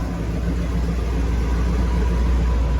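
A 1964 Pontiac car on the way to a car show, its engine giving a steady, loud low rumble throughout as it runs, with no voices.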